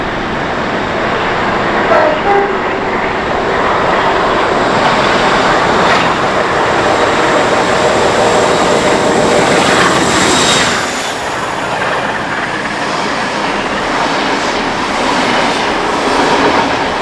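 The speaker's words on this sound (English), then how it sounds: "Sounded great in that peak going through there." Class 45 diesel locomotive 45118 thunders past at night in the rain, a loud, sustained roar of engine and rolling wheels that dominates for about ten seconds before easing away, with a brief voice in the background.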